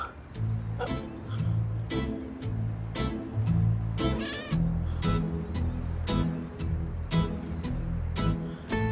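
A cat meows repeatedly in short, regular calls, close and fairly clear, about one every second, with a person's voice briefly between them.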